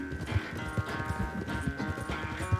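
Hooves clip-clop in a quick, steady gallop as a horse runs in Red Dead Redemption 2, close and clear, with a muffled rumble of movement beneath the rhythmic beats.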